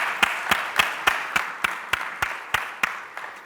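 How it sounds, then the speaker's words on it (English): Sparse, regular claps from an audience acknowledging a panel of experts at a corporate tax seminar in Abu Dhabi, about a dozen crisp slaps at a steady rhythm, moderately close and fading slightly toward the end. "Can you please give them a nice round of applause?"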